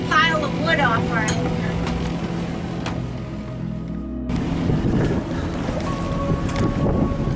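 A sailboat motors out of the Ashley River at Charleston with a low, steady engine drone. Gusts of wind buffet the microphone, and a voice talks over the sound.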